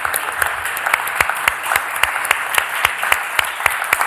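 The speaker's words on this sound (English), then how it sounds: "give Vince, our 18th member of council, just a round of applause and appreciation for all of his work over the years" Applause at a Philadelphia City Council stated meeting for a council member, a room of steady, fairly close clapping with distinct individual claps throughout.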